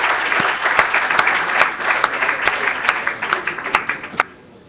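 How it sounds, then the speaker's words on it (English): At a European Scout symposium, an audience gives a round of applause, a moderate wash of clapping with a few sharp, distinct claps standing out, thinning toward the end and then stopping. "give everyone out there a big round of applause"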